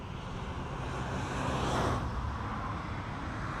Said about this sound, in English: And also apologize for the background noise. It's just those freaking cars going around here.